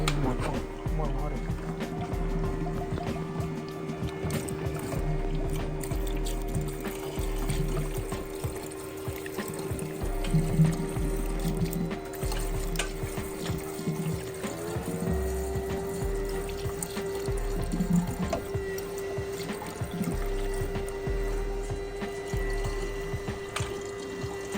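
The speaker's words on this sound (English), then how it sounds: "you can hear the pump going" An electric water pump runs during an N55 engine swap into a BMW E46, giving a steady mechanical hum with a slight pitch shift partway through. Water trickles and gurgles nearby, and people talk over it.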